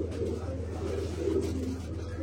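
Pigeons coo softly and continuously inside a pigeon loft where hens sit on their eggs, a low steady murmur of several birds filling the space at moderate distance.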